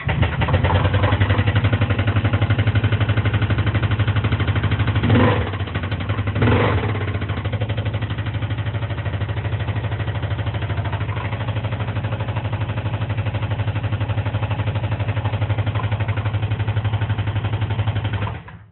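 A Kawasaki Teryx 800 side-by-side engine, damaged after running without oil from a suspected oil pump failure, runs steadily and loudly at close range with a rough, heavy knocking idle, with a couple of brief louder bursts near the start.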